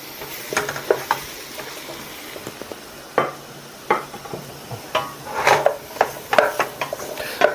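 Quartered button mushrooms stir-fried in oil for cream soup, with intermittent spatula knocks and scrapes against the pan over a faint sizzle, close by and irregular, no voices.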